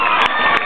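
Audience at a live country show cheers and shouts in a dense, loud burst that stays steady for under a second with no speech.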